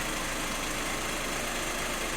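A VW Golf 1.6 TDI diesel engine runs at a steady idle with a dense, even rattle and hum, close and constant, with no voices. The engine has a slightly faulty damper that can cause a light ticking.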